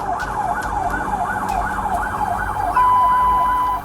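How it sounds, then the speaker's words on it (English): A police car siren wails loud and close during a high-speed chase, a smooth rising and falling yelp that shifts into a steady unbroken tone near the end, over road rumble. "Officers activated lights and sirens"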